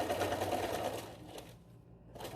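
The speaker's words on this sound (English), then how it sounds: "A few back and forth stitches to secure it nicely in the end." A sewing machine runs quietly while stitching a fabric face mask, a soft rapid mechanical chatter that slows and pauses briefly before starting up again.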